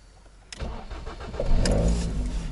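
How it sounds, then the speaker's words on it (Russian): A Ford Mondeo 4 car engine cranks and fires after sitting unused for two days, a sharp start followed by a rising rumble that settles into a rough, steady idle, recorded close by. "давайте посмотрим, вот как она заводится"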